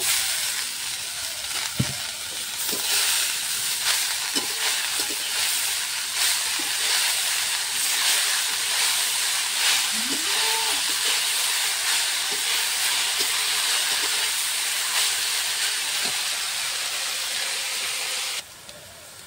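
Radish greens tossed into a pan of frying potato, aubergine and chilli, giving a loud continuous hiss of steam and sizzle, steady and close, with a few faint knocks, ending abruptly.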